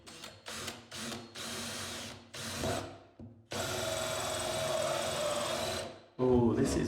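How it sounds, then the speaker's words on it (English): A drill with a blunt bit whirs in several short bursts through the back of a wooden cabinet, then runs steadily for a few seconds before stopping, with another brief burst at the end. "I'm attempting to drill through the back of the cabinet"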